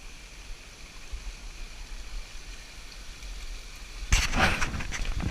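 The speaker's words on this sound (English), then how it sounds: "Look at this waterfall." A Costa Rican waterfall rushes as a steady broadband roar that swells louder near the end, with no speech over it.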